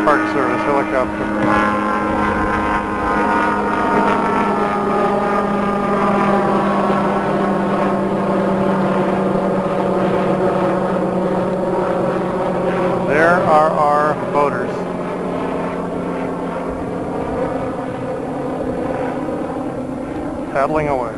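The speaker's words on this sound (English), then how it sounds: "Helicopter flying over, apparently the Park Service helicopter." A steady low engine drone with rotor-like harmonics, a Park Service helicopter passing overhead near an Oregon rainforest, loud and continuous, with a voice speaking over it.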